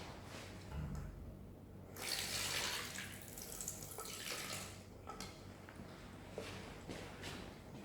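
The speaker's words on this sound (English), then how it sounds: "Let's just detach the layering tool and give it a quick rinse." Tap water runs over a layering tool, a soft rushing splash that swells and shifts as the tool is moved under the stream, quiet and close, with a few light knocks.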